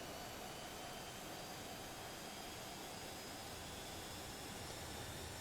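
DC-8 jet engines in a P3D flight simulator roar steadily at high power for takeoff, a broad, unbroken rushing hiss with no pauses and no voices.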